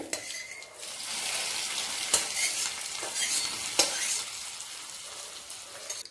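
Mustard seeds, two green chillies and curry leaves tempering in hot oil, a steady bright sizzle with soft crackles and two sharp spatter pops, plus light stirring and utensil clinks, close and without voices.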